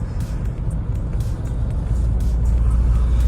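A car engine warming up idles steadily with a low, continuous rumble, close by and even in level, with no voices.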